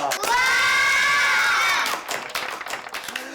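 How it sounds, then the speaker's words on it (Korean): A classroom of children cheers and shouts loudly to welcome a new transfer student, a bright burst of young voices that fades into scattered claps and chatter. "박수로 환영해 줍시다."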